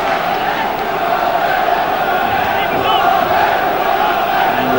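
Capacity football crowd of about 12,000 at Edgeley Park during the 1997 League Cup quarter-final between Stockport County and Southampton, a loud sustained roar and cheering filling the whole stretch, with a commentator's voice faintly underneath.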